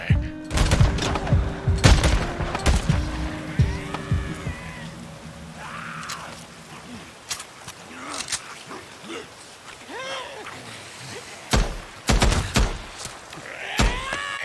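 Rapid bursts of video game gunfire while mowing down a zombie horde at Belknap Crater, Twin Craters and White King Mine, loud and dense at first, then sporadic sharp shots amid creature cries and scattered effects.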